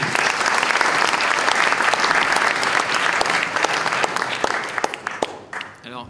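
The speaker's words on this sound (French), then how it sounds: "Et on peut également l'applaudir." Audience applause at a French literary prize ceremony, steady and dense clapping from a crowd that carries on for several seconds before thinning out and fading toward the end.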